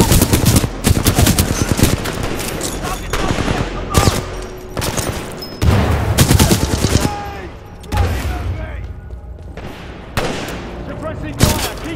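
Rapid bursts of automatic gunfire and heavy firefights crackle through a Titanfall 2 battle on PS5, loud and dense with repeated volleys and booms, while voices shout over the shooting.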